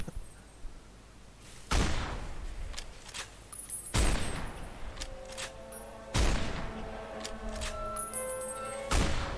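Gunfire in the video game Fallout New Vegas, Lonesome Road DLC: heavy booming shots landing roughly every two seconds, each a loud crack with a rumbling tail, mixed with smaller clanks and game effects between them.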